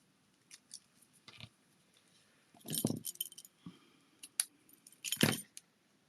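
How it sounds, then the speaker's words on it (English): Backing is peeled off double-sided tear and tape during card making, producing close crinkly rustles and short sharp peeling crackles in a few bursts over a quiet background. "Take the top off the tear and tape."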